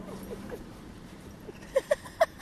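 A dog whimpers in a quiet room, with soft whiny cries early on followed by three short, sharper yelps near the end, close by and fairly faint.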